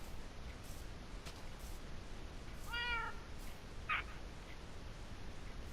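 A house cat in the video game Minecraft gives a single clear meow, followed shortly by a shorter chirpy mew, both moderately close over a hissy, constant background ambience.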